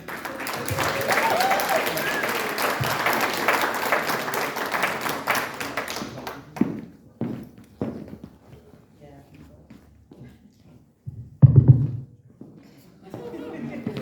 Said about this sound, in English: Big round of applause for the best man